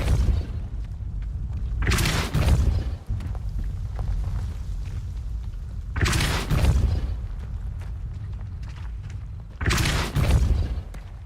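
Three loud, booming blasts of the Depulso spell from Hogwarts Legacy, each a roaring burst lasting about a second and spaced a few seconds apart over a low game background.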